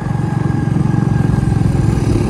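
Motorcycle engine running steadily and close while riding through the Gwadar goat market, a continuous mid-pitched drone with no talk.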